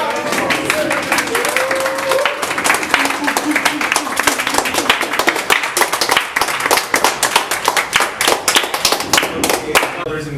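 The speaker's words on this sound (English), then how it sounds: "let's give him, no, not a round of applause, a standing ovation" A Toastmasters club audience gives a standing ovation, with loud, dense clapping that holds for several seconds and grows more distinct as voices murmur and call out beneath it.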